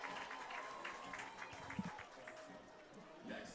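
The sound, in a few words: crowd applause at a baseball game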